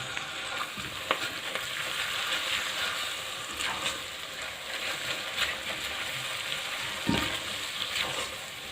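Ginger garlic paste sizzles steadily in hot oil with light-browned onions for a chicken curry, a continuous broadband frying hiss broken by a few soft stirring scrapes, close and even throughout with no talking.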